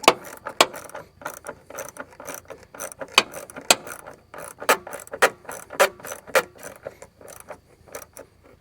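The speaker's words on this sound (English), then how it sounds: "go ahead and tighten your bolt down" A ratchet tightens the battery hold-down bolt on a 2011 Ford F-150, a run of sharp, close clicks in uneven bursts with short pauses between strokes, alone without talk.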